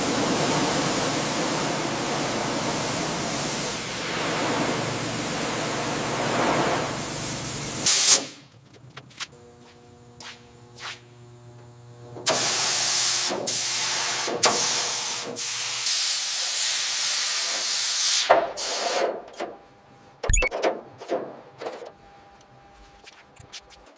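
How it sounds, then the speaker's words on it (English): Compressed air bursts blow dust out of the body cavities of a 1977 Mercedes-Benz T1 308D van, a long loud hiss followed by several shorter sharp blasts and pauses. "He does a second pass with lighter air bursts, careful not to drive dust deeper into cavities"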